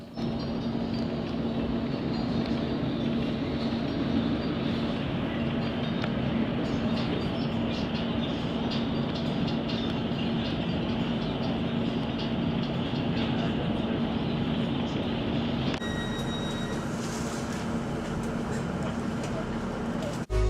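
Steady rumble of a Metro train ride near Sunderland, running close and loud throughout with a constant low hum, a brief higher tone change near the end, and faint chirps or squeaks over the rolling noise.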